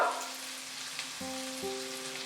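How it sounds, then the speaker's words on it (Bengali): Capsicum and green chilli frying with soybean in a pan, a steady close hiss of sizzling with faint tonal hum behind it, no talk. "ক্যাপসিকাম আর কাঁচা লঙ্কাটা দেওয়ার পর আমি আরো 1 মিনিট এটাকে ফ্রাই করে নেব।"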